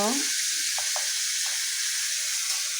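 Oil with ginger garlic paste and cumin sizzles loudly and steadily in a pan, a dense close hiss that fills the moment, with a faint voice briefly at the start.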